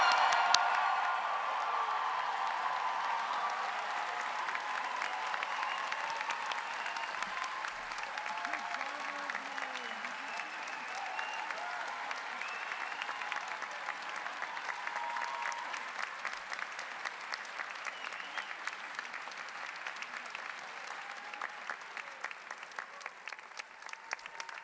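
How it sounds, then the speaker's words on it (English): Sustained applause from a large audience at a university commencement for the graduating law class, dense clapping with scattered cheers and whoops, steady and full for the whole stretch before thinning slightly near the end. "Please join me in a very big round of applause for the 2023"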